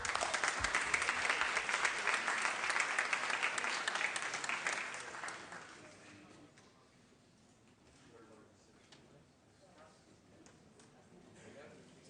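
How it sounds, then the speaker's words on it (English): Members in a state Senate chamber give a round of applause, dense clapping for about five seconds that then fades to a quiet room with a murmur of voices and faint shuffling. "Please give Yulia a round of applause"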